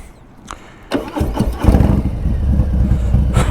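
A Harley-Davidson 114 Street Bob engine with an S&S 475 cam, Cobra El Diablo 2-into-1 exhaust and dyno tune starts with a few sharp catches, then settles into a deep, loping rumble that grows steadily louder up close.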